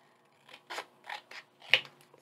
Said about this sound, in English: We're going to trim that off a little bit.